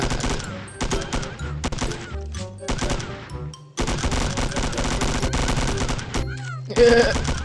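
Rapid automatic gunfire in the mobile shooter Milk Choco rattles in loud sustained bursts with short pauses between volleys, close and dense, while a player talks over it at times.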